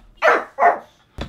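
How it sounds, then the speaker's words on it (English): A dog barks twice in quick sharp bursts, loud and close, followed by a brief low growl-like rumble; no talking. "Why you growl at them?"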